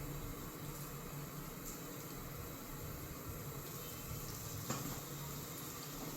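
Mustard seeds and asafoetida crackle and sizzle in hot oil for a tomato pachadi, a steady dense frying hiss with scattered pops and one sharper crackle near the end, close up and without talk.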